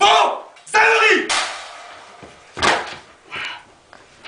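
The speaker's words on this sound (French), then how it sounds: "Voilà qu'il m'a claqué la porte au nez." A door is slammed shut in a staged two-person scene, giving a sharp, loud wooden bang with a few softer knocks and thuds after it. Voices are heard between the impacts.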